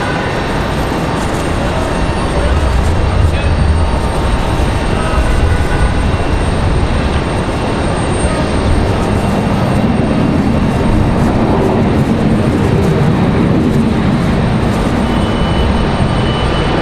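A Boeing 737-700 arriving at Raleigh Durham airport produces a broad, steady jet roar, loud and sustained with a deep rumble swelling in the later part.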